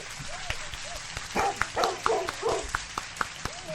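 Several yips and barks from a small dog sound at a moderate distance amid steady background noise and a few scattered clicks and knocks.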